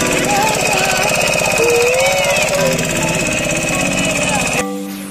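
A boat engine runs loud and steady on Chilika Lake, its rapid rhythmic knocking chugging close by throughout, with gulls crying over it and a voice talking, then the engine note dropping away near the end.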